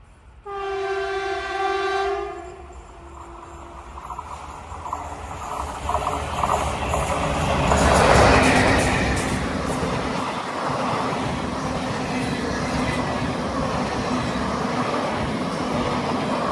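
Passenger train on the Nilambur-Shoranur railway line opens with a loud two-second horn blast, then rolls past with a building rumble and clatter of wheels that peaks midway and stays steady.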